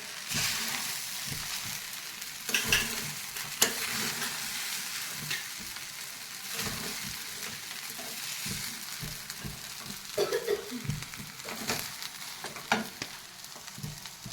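Sabudana khichdi with crushed peanuts being stirred in a pan, a steady soft sizzle beneath repeated spatula scrapes and scattered light knocks against the pan, with no voices.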